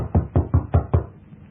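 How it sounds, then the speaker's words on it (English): Five firm knocks on a door in an even rhythm, close and fairly loud, then quiet. "I walked down the stairs to the next floor and knocked at a certain door."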